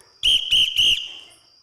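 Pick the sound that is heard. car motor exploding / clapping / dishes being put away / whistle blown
whistle blown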